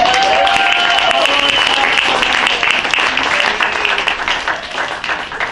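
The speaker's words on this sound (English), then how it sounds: "Can we give Paolo and Kevin another round of applause" A crowd at a live show in a small venue bursts into loud, full applause with some cheering voices mixed in, then gradually tapers off toward the end.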